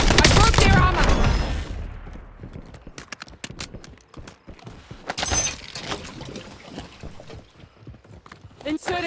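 Gunfire in the Call of Duty Warzone video game, with bursts of rapid automatic shots and single sharp cracks amid heavy action noise, plus brief in-game voice callouts.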